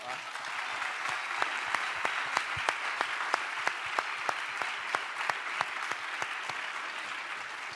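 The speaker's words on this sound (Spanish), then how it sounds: "Yo pido un fuerte aplauso," An audience applauds a game winner at a science and learning event: steady, fairly distant clapping, with a few sharp, loud individual claps standing out at a regular rhythm above the crowd.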